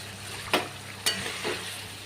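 A ground poppy seed and peanut paste frying in a pan, a soft steady sizzle broken by three brisk spatula scrapes in quick succession.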